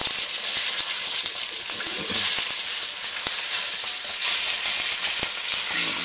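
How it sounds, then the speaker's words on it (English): Egg sizzling loudly in a hot pan for fried rice, a steady bright frying hiss throughout with small crackles and scraping clicks, close and continuous with no talking. "And then we're going to put in our egg."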